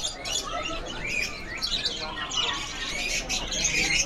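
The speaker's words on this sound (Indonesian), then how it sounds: "Burungnya sudah rajin-rajin ya. Udah pada ngeriwik semua." Caged canaries at a bird market fill the air with busy, overlapping chirps, tweets and trills, moderately close and continuous, with no one talking over them.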